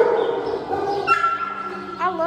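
Inside a pet shop, a dog yips and whimpers in high, wavering cries close by, with a person's voice mixed in throughout.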